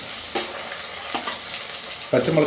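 Green chillies and onion fry in hot oil for a potato curry, producing a steady, fairly loud sizzle up close, with a brief spatter burst and a louder crackle at the end as more goes into the pan.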